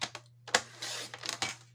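Scissors cut the top part of a small gift basket, giving a few crisp close snips followed by a longer rustly cutting stretch against a faint steady hum.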